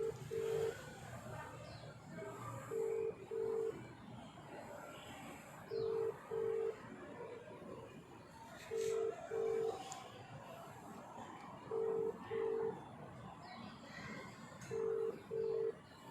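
Telephone tones on a call to a sister in hospital: faint paired beeps repeating about every three seconds over a low background rumble.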